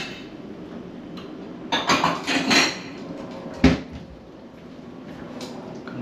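Gluten-free risotto is served into a bowl with a cluster of clinking and scraping from a spoon and dishes, then one sharp knock as a pot or bowl is set down.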